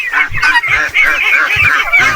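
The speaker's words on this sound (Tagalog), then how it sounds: "Ang ingay ng giniya." A flock of guinea fowl on a farm calls noisily, a dense chorus of harsh, rapid, overlapping cries, loud and close, with no talking.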